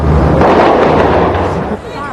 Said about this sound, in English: Then the message is reinforced with a burst of gunfire.